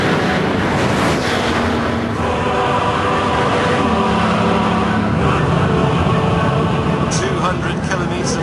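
A Bugatti sweeps around a banked test circuit and accelerates down the straight, its engine a steady rising drone under heavy wind rush, with someone talking over it.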